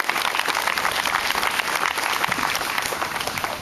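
Crowd applause at an outdoor September 11th memorial ceremony in Marine Park, a dense, steady round of clapping from many people, moderately loud and sustained throughout.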